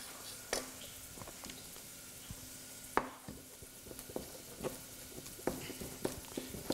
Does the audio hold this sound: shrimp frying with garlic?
yes